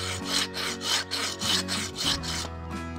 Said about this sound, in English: I'm gonna take this Bocco saw and saw through there